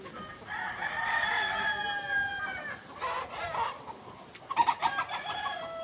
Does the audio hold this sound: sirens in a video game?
no